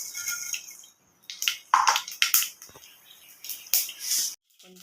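Mustard seeds tempering in a little hot oil on a stove for an egg and brinjal curry, giving bursts of sharp crackling pops and sizzle in irregular clusters, close by, with brief quiet gaps between them.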